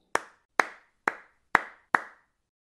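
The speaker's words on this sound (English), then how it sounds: "Can you clap 5 times with me?" Five sharp hand claps, evenly spaced about half a second apart, close and clear with silence between each.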